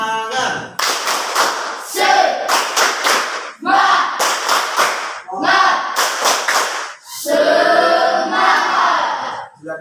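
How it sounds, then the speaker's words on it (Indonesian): A classroom of students stands and performs a spirit clapping chant, bursts of rhythmic group claps in quick clusters mixed with shouted voices, loud and close, repeating over several seconds. "Kita kasih tepuk semangat."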